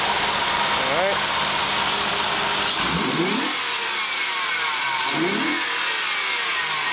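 A car engine idles with a deep, rumbling exhaust note through a cat-back exhaust, rising briefly twice in short revs before settling back to a steady drone.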